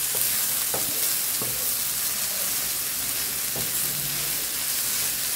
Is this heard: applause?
no